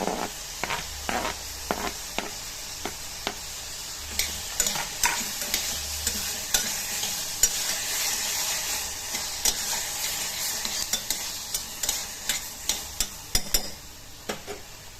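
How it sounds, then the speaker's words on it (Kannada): Chopped tomato stirred in a frying pan over a continuous hiss of sizzling oil, with repeated sharp scrapes and clicks of the spoon against the pan, close and clear with no voices. "ಒಂದು ಟೊಮೊಟೊ ಹಚ್ಚಿಟ್ಕೊಂಡಿದ್ದೀನಿ ಸಣ್ಣದಾಗಿ, ಅದನ್ನು ಕೂಡ ಹಾಕ್ತಾಯಿದ್ದೀನಿ"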